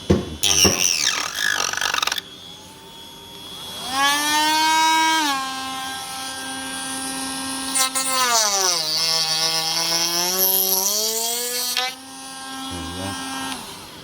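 Power tool trimming parts for fitting a Renntec grab rail to a 2007 Yamaha R1 4C8, a loud whining tone that rises and falls in pitch over several sustained passes, with short quiet gaps and brief knocks.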